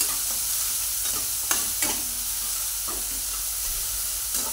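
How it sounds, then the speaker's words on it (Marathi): Ground spice paste (vaatan) for besan patvadi frying over low gas in a pan, a steady close sizzle and hiss broken by occasional scraping strokes of a spoon as it is stirred. "बारीक गॅसवरच हे वाटण चांगलं भाजून घ्यायचं आहे"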